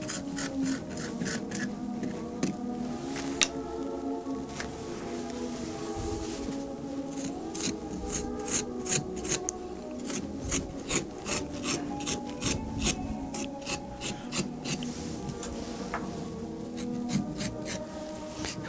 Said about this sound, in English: Let's carve out the inside of the eye sockets here.